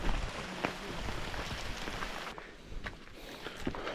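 Rain falls on Mt Mantalingahan in Palawan, a steady close hiss of drops with scattered louder patters and rustles, at a soft overall level and with no voices.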